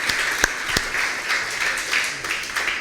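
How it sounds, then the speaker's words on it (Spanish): A church congregation applauds steadily for a few seconds, a dense, fairly loud wash of clapping with a couple of sharp individual claps standing out near the start. "Yo quiero que aplaudamos al Rey."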